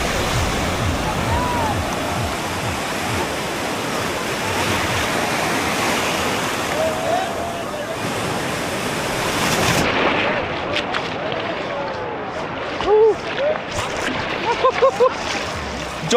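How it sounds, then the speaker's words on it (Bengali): Sea waves surge and break steadily on the beach at Puri, a broad continuous roar of surf and churning water up close, with faint voices and small splashes near the end as the wash recedes. "ঢেউ পেছন দিকে টেনে নিয়ে যায়।"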